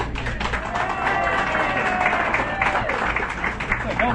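A studio audience on an auto racing radio show claps and cheers for guest Mike Gass, a busy, steady patter of hands and voices that runs throughout without pause.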